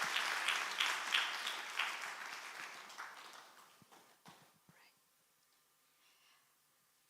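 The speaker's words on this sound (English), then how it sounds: "Please clap for her as she climbs up the stairs." Audience applause at a women's ministry business conference as a speaker climbs the stairs to the stage, loud and sustained clapping at first, then thinning out to scattered claps and fading into a quiet room.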